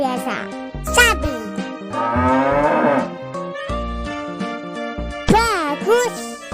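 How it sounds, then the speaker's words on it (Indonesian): A cow moos in a children's animal-names learning piece, its low drawn-out call sitting amid bright, bouncy background music with tinkling accents. "sapi"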